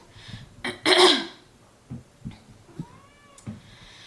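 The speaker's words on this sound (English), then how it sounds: "The cat just jumped on the table again, and he is desperately in need of my attention." A house cat that has jumped onto a table gives a short, faint meow with a rising and falling pitch, after a few louder bumps and rustles nearby. Nobody speaks.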